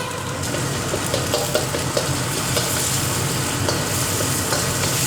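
Garlic fries hard over high heat in a pan, giving a dense, continuous close-up sizzle with scattered soft scrapes of stirring and a low steady hum underneath; no voices.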